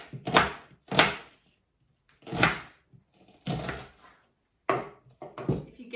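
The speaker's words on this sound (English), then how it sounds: "And now we chop our onions." Onions chopped with a knife on a wooden board: six firm, separate chops spaced unevenly, close and fairly loud, with brief silences between them and no talking.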